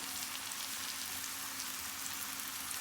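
Chopped onion and green onion fry in hot oil, giving a steady, even sizzle like light rain that holds unchanged throughout, with a faint low hum beneath.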